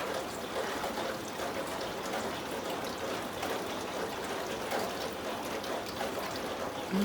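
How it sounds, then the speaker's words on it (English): A steady stream of rainwater spills and splashes into a bedroom during a downpour, a close, continuous trickling pour that stays even throughout, with no talk over it. "I didn't think I'd get my own waterfall built into a bedroom."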